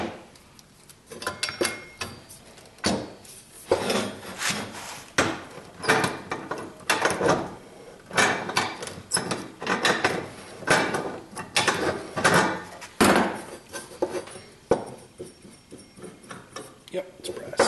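Brass plumbing fittings are unscrewed and handled while being sorted for scrap, producing repeated close scraping, knocking and metallic clatter in irregular bursts, with someone talking in between.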